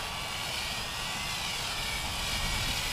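MJX X909T drone motors running at near full throttle, a steady loud broadband whir with a high-pitched motor whine, continuous for the whole stretch with no talk.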